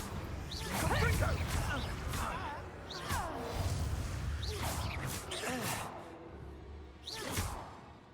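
A Confringo blasting spell goes off in Hogwarts Legacy, with repeated whooshing magical impacts and bursts heard over a character's spoken lines and game effects.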